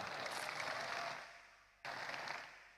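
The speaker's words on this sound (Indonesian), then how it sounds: "Jangan tepuk tangan dulu" A crowd packed into an open field at a religious sermon breaks into applause, a brief dense wash of clapping that fades, cuts off and then swells again.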